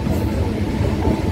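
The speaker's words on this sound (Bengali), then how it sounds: "ফাঁকা ট্রেন, ফাঁকা সিটে বসে পড়লাম।" Steady low rumble and rattle of a passenger train in motion, heard from inside a nearly empty carriage on a rural line in Nadia, continuous and fairly loud with no talk.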